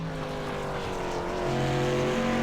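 Race car at the Bullring short track at Las Vegas Motor Speedway crossing the start-finish line, engine whine rising and holding loud as it passes close by, with a second engine tone underneath.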